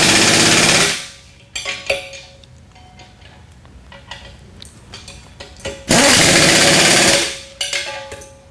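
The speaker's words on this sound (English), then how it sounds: "take a socket, put it on the bottom of the holes, and tighten them up with an impact gun" An impact gun with a socket tightens bolts on a sifter spindle during a rebuild. It gives two loud, rattling bursts, with quieter clicks and handling noise in between.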